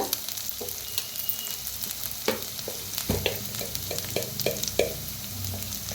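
A brinjal masala fries in a pan with a constant hissing sizzle, punctuated by rhythmic spatula knocks and scrapes, near and moderately loud.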